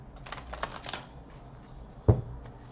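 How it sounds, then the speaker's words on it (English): Tarot cards being riffled and shuffled in a quick burst of close, crisp flutters, followed by quiet and a single sharp tap as the deck is squared. "let's shuffle the cards for you"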